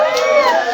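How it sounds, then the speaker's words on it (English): A comedy club audience during a stand-up set erupts in cheering, whooping and clapping, a loud burst of crowd noise lasting under a second. "I'm glad you guys clapped."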